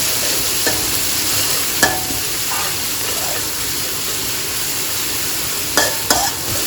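Chili and garlic stir-frying in a pan for a Thai scallop stir-fry, a steady close sizzle with a few scraping stir strokes of the spatula, no talking.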